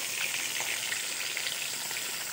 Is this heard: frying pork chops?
yes